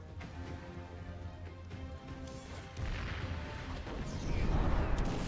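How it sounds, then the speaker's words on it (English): An incendiary grenade goes off in a StarCraft II custom map battle, a sudden crashing eruption that swells into a louder rumbling burn with scattered gunfire-like cracks. "I'm going to throw an incendiary grenade."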